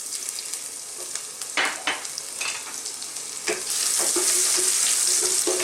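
Garlic sizzles and fries steadily in a pan still coated from frying milkfish (bangus), a close continuous crackle with scattered pops that grows louder and denser toward the end, with no voices.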